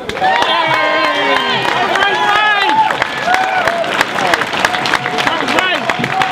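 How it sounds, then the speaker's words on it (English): A live audience applauds and cheers as comedian Mike Rogers is welcomed on stage, with dense clapping mixed with loud whoops, shouts and crowd voices throughout. "please give a round of applause for Mike Rogers"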